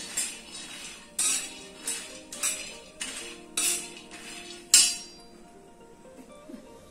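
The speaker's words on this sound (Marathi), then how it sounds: "थोड्या तेलावर शेंगा परतून घ्यायची।" A utensil clinks and scrapes against a pan as peanuts are stirred while they roast in a little oil, with about seven sharp, evenly spaced metallic taps and then a quieter tail.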